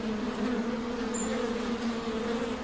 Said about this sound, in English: Listen to those bees buzzing.